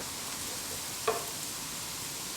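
Onions sizzle steadily in a pan while being mixed with tongs for smashed burger tacos, a soft continuous hiss with one brief metallic clack midway.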